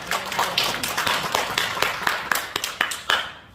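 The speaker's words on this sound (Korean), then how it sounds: "다시 한번 우리 두 교수님께 감사 박수 한번 드립니다" Scattered hand claps from an audience thanking two professors at a church workshop: a thin run of separate, irregular claps at moderate distance rather than a full ovation.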